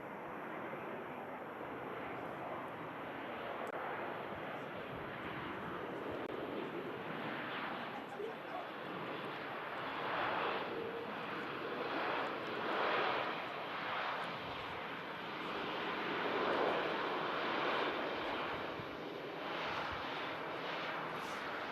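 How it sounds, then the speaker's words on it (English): A Lufthansa airliner touches down and rolls out at Manchester Airport, a broad distant roar of engine and reverse thrust swelling and fading over about twenty seconds, with a voice talking faintly beneath. "Silky touchdown from the Lufthansa."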